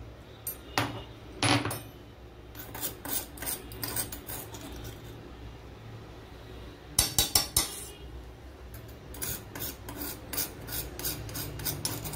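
Fresh ginger is pounded for tea in a home kitchen, coming as close, uneven bursts of crushing and scraping strikes separated by short quiet gaps, with a dense flurry of hits near the middle.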